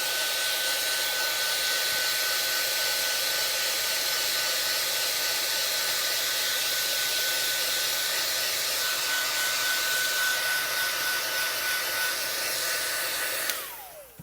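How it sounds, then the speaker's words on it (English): A heat tool blows steadily to dry glue on a metal-gear glimmer-plate craft project, a loud continuous hiss-like whir that holds for about thirteen seconds before cutting off. "I'm going to put a little heat to it."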